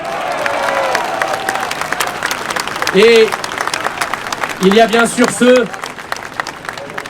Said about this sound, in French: je veux que vous les applaudissiez très fort